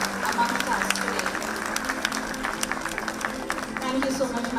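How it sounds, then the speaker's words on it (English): A conference audience at Parul University applauding a guest of honour, sustained clapping from a large crowd that stays steady throughout, with a voice speaking over it. "Can we keep clapping to honor a visionary leader amongst us today?"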